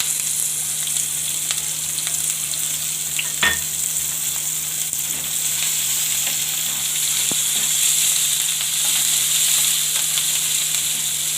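Chopped onions fry in hot oil with cumin and asafoetida for Punjabi poha, giving a steady close sizzle throughout with a couple of sharp utensil taps and no talking.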